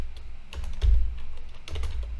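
Keys clack on a computer keyboard as a short command is typed and enter is pressed, a few close, crisp taps alone in a quiet room.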